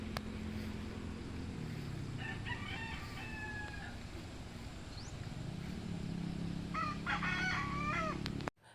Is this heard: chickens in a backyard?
yes